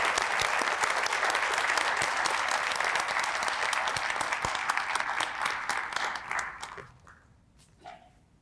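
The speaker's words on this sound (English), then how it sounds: "How about we just have one big round of applause" A ceremony audience at a college Hall of Fame induction claps loudly for the inductees, thick sustained applause that tapers off near the end into a few last claps and a faint voice.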